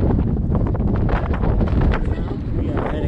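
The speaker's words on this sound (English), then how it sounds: "Windy but clear." Strong wind buffets the microphone at night at about 16,000 feet on Cotopaxi volcano in Ecuador, a loud, steady rumbling roar that fills the whole clip.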